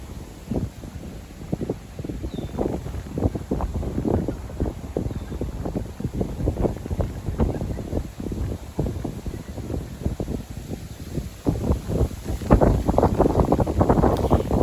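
Steady wind blows outdoors beside a lake on a bike trail, a continuous roar of gusts buffeting the microphone throughout, swelling louder near the end.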